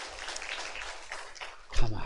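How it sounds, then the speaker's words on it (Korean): A church congregation claps for the children's department, a moderate wash of applause through most of the span, with a voice rising over it at the end. "우리 아동부 친구들에게도 박수 한번."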